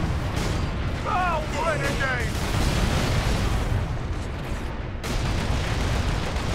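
Grenade blasts and heavy gunfire in Warhammer 40K: Space Marine, a dense, continuous roar of booming explosions and shots that fills the whole stretch, with a player talking over the din.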